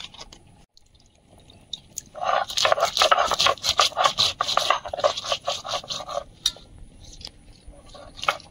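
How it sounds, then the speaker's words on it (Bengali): Four or five garlic cloves and black pepper are ground together into a spice paste, giving a close, rhythmic scraping and rubbing that builds suddenly, runs steadily for several seconds, then thins out to a few scattered scrapes. "4-5 কোয়া রসুন আর গোলমরিচ একসঙ্গে বেটে নেব।"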